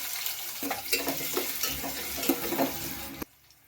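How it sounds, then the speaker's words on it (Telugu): Oil sizzles and crackles loudly as chopped onions and seeds fry in a pan, with a few clinks of utensils, then the sound cuts off abruptly near the end. "రెండు ఉల్లిపాయలు కరుక్కున్న ముక్కలు వేసుకోండి"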